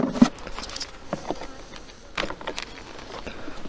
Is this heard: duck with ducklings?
no